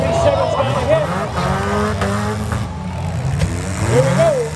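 Demolition derby cars at a fall fair, with loud engines revving and whining, tires squealing and short thumps of impact. A commentator's voice runs over the close, busy engine noise throughout.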